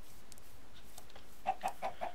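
Short clucks from Minecraft chickens in a rhythmic burst of four near the end, after a quiet stretch with faint background ambience; no talking.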